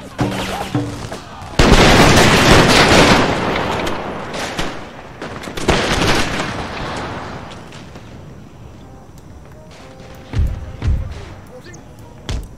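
Musket and artillery volleys in a naval-era Empire Total War battle with the Pirates Uber Alles mod: two loud, sustained crackling volleys, then scattered heavy booms fading into quieter battlefield noise.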